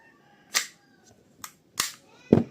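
A WE G17 airsoft pistol fires four sharp, snappy pops spaced irregularly over a couple of seconds, each crisp and close with quiet gaps between.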